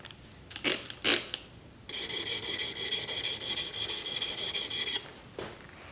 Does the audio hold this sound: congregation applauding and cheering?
no